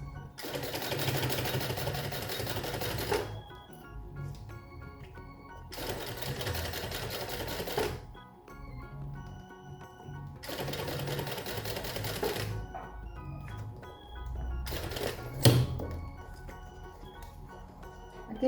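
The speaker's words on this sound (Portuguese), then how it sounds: "vou passar a costurinha de segurança" Sewing machine stitching a safety seam on a fabric lunch bag, running in three sustained bursts with short pauses between them, then a brief final spurt, steady and close with no talking.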